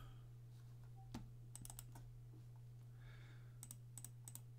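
Quick bursts of keyboard typing, a few keys at a time with short pauses, over a steady low electrical hum.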